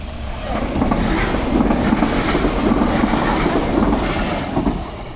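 A train passes on a Luxembourg railway, its rolling rumble and wheel clatter building quickly, staying loud and close, then easing slightly toward the end, with no talking.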